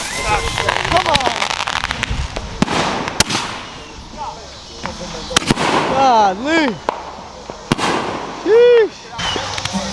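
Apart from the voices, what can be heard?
fireworks shells exploding for Fourth of July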